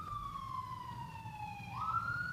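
Emergency vehicle siren wailing outside an outdoor studio, a single sustained tone gliding slowly down then jumping back up, moderately distant over low traffic rumble.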